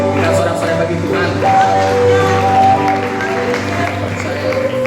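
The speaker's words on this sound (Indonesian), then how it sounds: "Kita sorak-sorai bagi Tuhan." A church congregation at a Christmas service cheers and applauds for God. Steady clapping and crowd voices run under sustained music with held tones.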